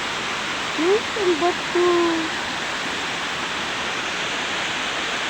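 Shallow flowing water at Busay Spring, a steady broadband rush filling the whole stretch, with a few brief voices speaking over it near the start.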